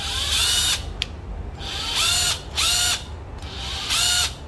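A Panasonic 6507 cordless drill whirs in several short, loud bursts, spinning up and stopping repeatedly with brief pauses between runs and a faint click in one gap.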